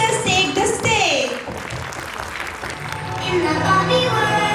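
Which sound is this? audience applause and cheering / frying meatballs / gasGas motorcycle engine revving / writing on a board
audience applause and cheering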